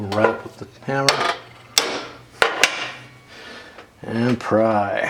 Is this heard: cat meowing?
no